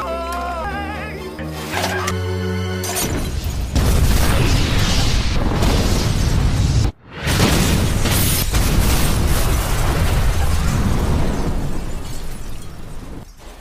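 Leaked LPG gas explosion in a film, a sudden massive boom that rolls into a long roaring blast with crackling debris, a brief cutoff, then more sustained rumbling destruction.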